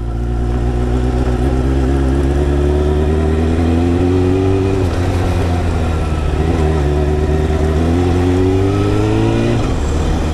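A Honda CBR929 sport motorcycle engine runs close and loud, holding a steady high idle with a strong low drone, then rising and falling through a few throttle blips, the pitch climbing and dropping around the middle and at the end.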